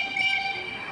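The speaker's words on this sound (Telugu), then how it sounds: "మన ట్రైన్ ఇప్పుడే స్టార్ట్ అయింది. హార్న్ సౌండ్ విన్నారు కదా" The Ooty Nilgiri toy train horn sounds as the train starts, a faint, sustained tonal blast held steadily over a quiet background.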